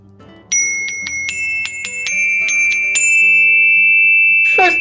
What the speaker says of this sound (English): I have my chimes today